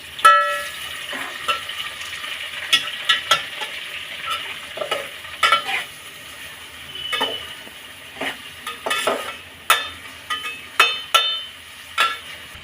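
Mushrooms frying in a pan for mushroom pulao, a steady close sizzle broken by repeated clinks and scrapes of a spoon stirring against the pan, with no talking.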